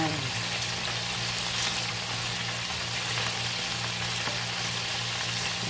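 Chicken pieces sizzle in a pan for a barbecue-sauce dish, a steady, dense frying hiss that holds evenly the whole time without pause. Close and continuous.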